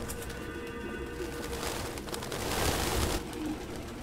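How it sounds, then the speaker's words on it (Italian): Pigeons coo in the video game Detroit: Become Human, a soft, steady, murmuring call heard alone over a dense ambient backdrop, growing slightly louder near the end. "È il verso dei piccioni."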